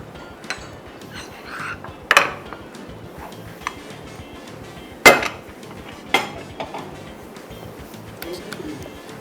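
A utensil mixes a cheesesteak filling with melting cheddar in a pan, giving scattered scraping sounds and a few sharp metallic clinks and knocks at irregular intervals, close by and moderately loud over quiet background noise.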